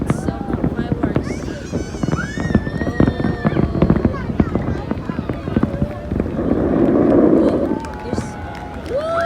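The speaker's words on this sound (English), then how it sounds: "It's almost 9 minutes of fireworks." A New Year's Eve fireworks display at the Burj Al Arab bursts and crackles amid a noisy crowd, with voices chattering and calling close by and a dense crackling swell near the end.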